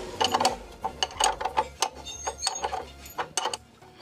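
A wrench tightens a motorbike chain adjuster, producing quick, close metallic ratcheting clicks in uneven bursts with small clinks and no talking.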